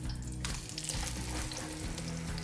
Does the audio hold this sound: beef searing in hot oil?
yes